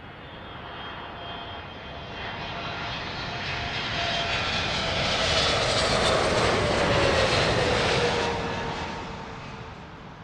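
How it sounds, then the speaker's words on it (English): An American Boeing 777 touches down on runway 27 left at London Heathrow with a loud, broad jet-engine roar that builds as it passes close, peaks, then fades slightly, with no voices over it. "Super noisy American triple, touching down here on runway 27 left, London Heathrow."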